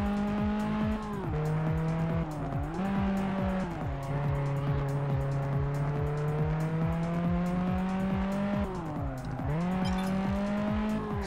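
A car drifting in the Test Drive Unlimited racing game on PS2 gives a loud continuous engine whine with long tire squeals that dip and rise in pitch during the slides.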